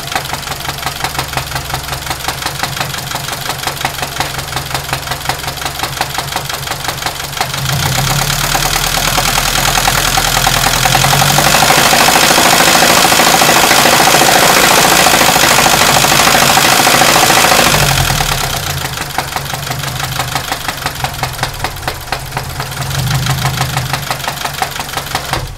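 A 2006 Saturn Ion engine idles with a loud, steady top-end knock, a rapid ticking clatter that swells louder through the middle stretch, then settles back to a rougher idle, with no talking over it.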